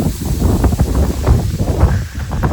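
Gusty wind blows across open village farmland in rainy weather, a loud, rumbling rush buffeting the microphone in uneven surges throughout.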